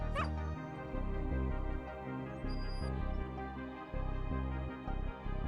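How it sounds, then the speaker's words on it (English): An injured bulldog in the video game Fallout whining in short, high, yelping bursts over a steady tonal game score, with a brief bright chime partway through. "Dog!"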